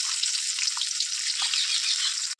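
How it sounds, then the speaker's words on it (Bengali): Moringa drumsticks frying in hot oil in a kadai give a steady, close, bright sizzle that runs unbroken and cuts off abruptly at the end. "তোমরা দেখতে পাচ্ছ কড়াইয়ে তেল দিয়ে দিয়েছি, তেল গরম হয়ে গেছে। আমি এবার সজনে ডাঁটাটা ভেজে নেবো।"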